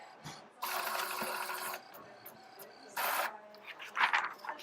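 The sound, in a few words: printer printing lab test results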